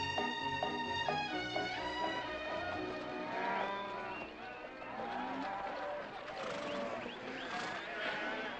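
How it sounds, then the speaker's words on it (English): Cattle moo from the back of a vehicle, long bellowing calls layered under swelling orchestral music from a western film, with some movement noise and no clear talk. "You got cattle in the back, boss."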